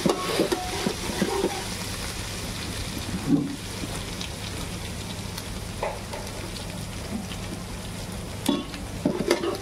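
Garlic and ginger paste frying in a pan for veg Chinese rice, a steady soft sizzle with scattered stirring scrapes and a few louder clinks, close and continuous without speech.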